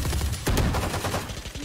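Gunfire in a tactical shooter video game, a burst of overlapping shots that cuts in sharply midway and then trails into scattered, fainter reports, with no talking heard.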